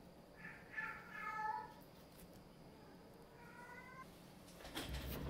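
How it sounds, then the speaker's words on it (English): Cats meowing in the background, two or three drawn-out meows, faint and distant, with a quiet muffled knock near the end. "I hear the cats meowing in the background."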